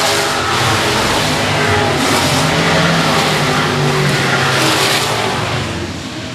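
Race cars roar around the oval at Shady Oaks Speedway as the green flag drops on a restart. The loud, close engine drone blends with tire noise, swells as the pack passes and then fades slightly at the end.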